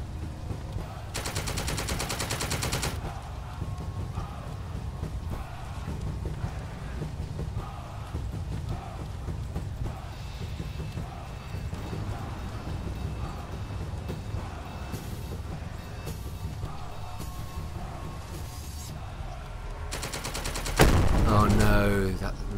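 A .50 cal machine gun firing in the strategy game The Troop, heard as sustained bursts of rapid automatic fire, loudest in the opening seconds and near the end, over a continuous battle rumble.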